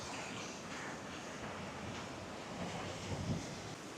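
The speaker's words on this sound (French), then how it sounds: "il y a vraiment beaucoup de vent quand même" Steady, rushing wind roars across the microphone, with low buffeting gusts swelling and fading and no voices.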